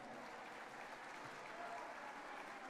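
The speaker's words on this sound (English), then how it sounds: "Give yourselves a round of applause." Audience applause at the Edinburg State of the City 2025 event, a steady, dense wash of clapping that holds evenly throughout without pause.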